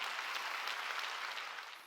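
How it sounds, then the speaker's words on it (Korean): Congregation applauding together during a church sermon, a steady wash of many hands clapping for about two seconds that thins out slightly toward the end. "깨끗하게 박수가 아름답게 박수쳐요."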